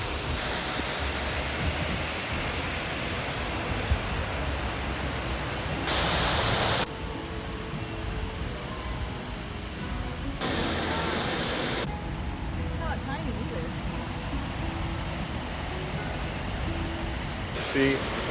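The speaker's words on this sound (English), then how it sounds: "there's a waterfall." A waterfall on a polluted stream roars as a constant broadband rush, loud and near, with people talking briefly over it.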